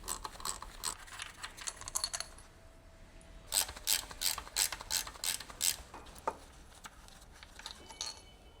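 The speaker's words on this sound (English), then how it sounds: "Using the medium 12mm long socket, with the medium ratcheting wrench, remove the 4 compressor retaining bolts." A medium ratcheting wrench with a 12mm long socket clicks in quick bursts while loosening the A/C compressor retaining bolts on a 2016-2021 Honda Civic, with close, sharp pawl ticks, a pause, then a louder run of clicks.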